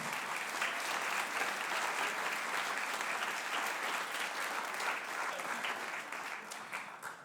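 An audience at a spring school band concert applauds steadily, a dense even wash of many hands clapping that holds for several seconds and then begins to taper off toward the end.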